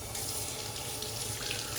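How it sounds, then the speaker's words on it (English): A tap runs steadily into a sink to wet a shaving brush, a close, even hiss of flowing water with no talking over it. "I just added heaps of water to the surface of the brush, and I know it will take it."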